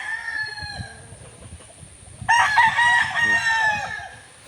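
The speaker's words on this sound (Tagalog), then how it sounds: "So malungkot ng mga manok yan, dahil tiglamig." Gamecocks vocalize in a farmyard, a burst of loud clucking and squawking rising sharply midway over a steady background of birds.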